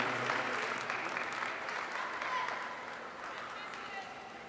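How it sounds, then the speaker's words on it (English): Spectators in a county fair livestock show arena give a sustained round of clapping for a heat of showmanship competitors, moderately loud and gradually thinning toward the end. "let's give this next heat of competitors a round of applause"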